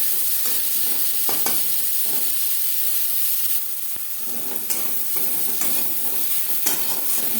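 Chopped onion and tomato fry loudly in a pan, a dense continuous sizzle broken by repeated scraping stirs and a brief dip in intensity partway through.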